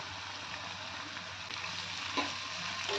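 Chopped onions fry in a pan of ghugni base with tomato, salt and turmeric, giving a faint, steady sizzle with a soft stir or scrape partway through.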